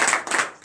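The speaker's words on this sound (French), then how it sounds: "je vais vous demander encore une fois d'applaudir encore très fort le nom de l'Éternel" A congregation claps loudly during a morning prayer service in Benin, with rhythmic bursts of hand claps, a brief dip, then a fresh sharp burst of clapping.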